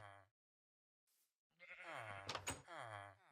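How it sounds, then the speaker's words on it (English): Sheep in Minecraft let out a single sustained, wavering bleat near the end, preceded by a brief bleat at the start and a short quiet gap with a faint soft noise. "I hear sheep."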